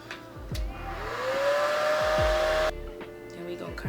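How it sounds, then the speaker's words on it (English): A handheld blow dryer runs close by with a steady whooshing roar that swells and holds, then cuts off sharply, with brief background knocks around it. "Grab that blow dryer before it's too late."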